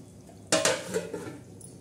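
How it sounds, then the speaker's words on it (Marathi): A metal lid is set onto a pot of boiling chicken soup, making a single clear clank followed by a short rattle as it settles. Soft boiling sounds run faintly beneath. "तोपर्यंत आपण त्याच्यावर झाकण ठेवू"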